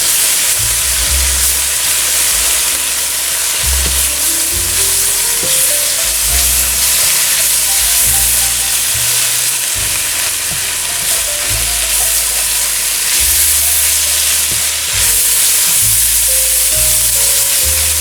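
A green bean and mushroom casserole mixture with flour sizzles in a hot pan while a spoon scrapes and stirs it steadily, loud and close, with no speech.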